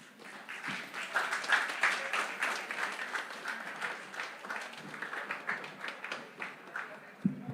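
Conference audience at a teachers' union annual meeting in Grenada bursting into sustained applause, dense rapid clapping filling the hall steadily for several seconds, close and lively, with a faint voice underneath.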